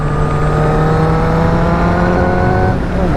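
A 2019 Honda CBR1000RR Fireblade sport motorcycle pulls hard on a bumpy road, its engine note climbing steadily and loud throughout with strong wind roar, rising pitch slightly falling near the end as the rider backs off.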